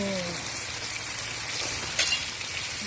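Fermented sour fish (pla som) frying in a hot non-stick pan gives a steady, close sizzle with constant crackling throughout, plus a brief louder spit of oil near the end; no voices.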